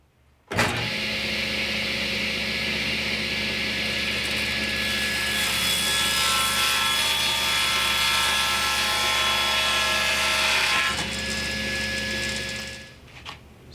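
A chop-style saw run on a sled cuts through wood boards for a camp kitchen grub box, a steady loud whine lasting about ten seconds before spinning down, close and alone without talk.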